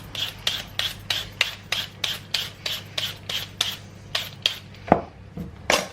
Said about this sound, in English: I've just got this little grater that makes some great little julienne slices. I'll do about a half a carrot for that.